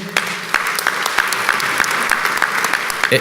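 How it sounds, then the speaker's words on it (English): Audience applause at a county awards ceremony honoring innovation and leadership, with steady rhythmic clapping from a moderate crowd, fairly close and continuous for a few seconds. "He can stand up and give him a round of applause."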